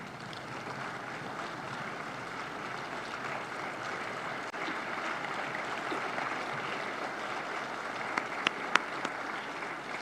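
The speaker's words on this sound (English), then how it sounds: "kindly please rise as we welcome our guests of honor with a round of applause" Audience applause welcoming guests of honor at an opening ceremony, a steady, fairly distant wash of clapping filling the hall, with a few sharper claps near the end.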